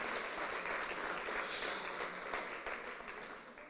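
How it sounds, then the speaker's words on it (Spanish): A crowd claps steadily and loudly, the applause fading slightly toward the end. "Now let's give Jesus a round of applause."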